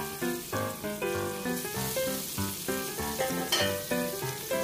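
Salmon fries in olive oil in a non-stick pan, a close, continuous crackling sizzle with quick rhythmic pops and light scraping, steady throughout and free of speech.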